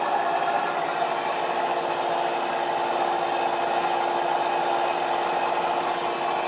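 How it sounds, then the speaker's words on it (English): A milling machine cutter works steadily through metal in a workshop, giving a constant close whirring drone with a faint high whine and no voices. "all the noise you can hear is basically just from the cutter."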